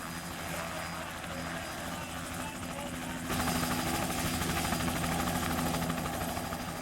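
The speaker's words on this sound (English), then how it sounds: "there were constantly helicopters going around" Helicopters at a balloon festival make a continuous, loud rotor thrum with a broad whooshing wash that swells partway through as one draws nearer.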